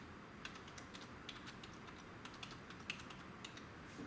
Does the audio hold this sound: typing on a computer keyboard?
yes